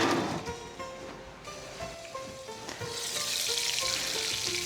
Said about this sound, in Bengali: এবার এটা আস্তে আস্তে ভাজা হোক, ঢেকে দেই, ভাজাটা হয়ে যাবে